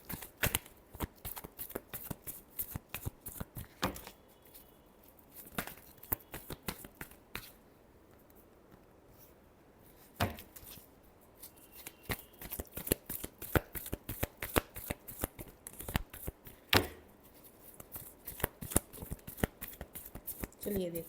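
Tarot cards are shuffled by hand close up in quick bursts of riffling flutters and sharp slaps, with a few brief pauses between rounds.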